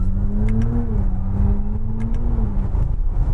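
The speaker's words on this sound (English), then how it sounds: "the engine note does fool you a little bit" Simulated engine note from a Genesis GV70 EV during an upshift, a steady synthetic drone with tonal harmonics that dip briefly as the gear change interrupts power, heard close and without voices.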